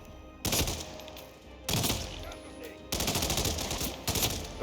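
Video game gunfire in a training mission comes in four sharp, loud bursts of rapid shots, each a dense rattle lasting about a second, separated by quieter gaps.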